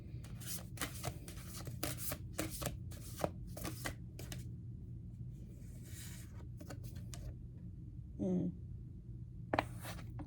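Rapid papery riffling bursts of cards being shuffled, repeated several times at close range, with a few louder snaps and clicks toward the end.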